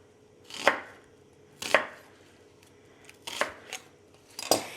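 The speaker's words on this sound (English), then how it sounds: "I'm just gonna put three slices, kind of spaced out evenly, and now I can cut the root end off" Knife rough-chopping a vegetable on a cutting board, three or four spaced, crisp thuds, then a final cut through the root end, close and clear over a quiet background.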